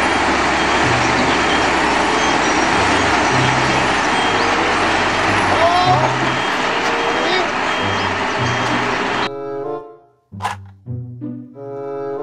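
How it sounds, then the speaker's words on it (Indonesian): A loud, continuous rumbling engine drone with rhythmic beeping tones runs for several seconds, then stops abruptly, followed by a few short sounds and voices. "Mobil truk molen."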